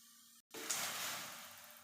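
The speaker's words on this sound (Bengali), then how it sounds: "জল দিয়ে ভালো করে ধুয়ে নিচ্ছি ডালটাকে।" Tap water pours over lentils being washed, a soft steady hiss of running water that starts after a brief cut and continues faintly and evenly, with no voices.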